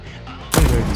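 A sudden loud gunshot blast from a weapon in the first-person video game Deathloop, bursting in after half a second of quieter game ambience.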